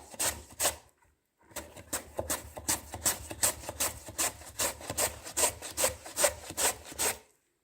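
Rhythmic rasping strokes of zucchini against a metal grater, steady back-and-forth scraping close by, with a short pause near the start.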